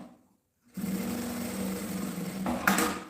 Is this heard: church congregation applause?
no